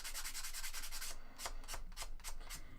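Quick back-and-forth strokes of sandpaper rubbing paint off an MDF board, a close, raspy scratching repeated in a brisk rhythm, with softer, spaced strokes after a short pause.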